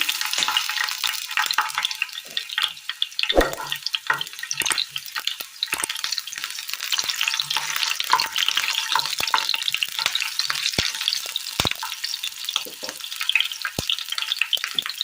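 Small onions, shallots, frying in hot oil in a pan for a Kerala curry, a dense continuous crackling sizzle throughout with occasional sharp pops and light stirring clicks.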